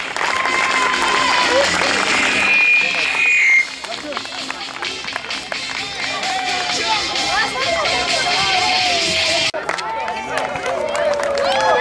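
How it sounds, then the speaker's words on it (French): Crowd at a youth under-11 football tournament applauding the winning team, continuous clapping and cheering mixed with loud amplified talk from an announcer throughout, with a whistle-like tone partway through. "Bravo, on peut les applaudir."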